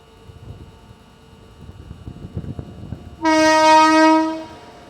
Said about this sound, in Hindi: परली बैजनाथ के प्लेटफॉर्म नंबर 1 पे आ चुकी है हैदराबाद पूर्णा एक्सप्रेस।